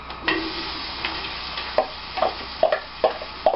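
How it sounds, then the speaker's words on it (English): Diced onions, celery ribs and minced garlic sauté in a pot for Boston-style clam chowder, giving a soft steady sizzle broken by several stirring scrapes, close and moderately quiet with no talking. "What we want to do is sweat and saute these."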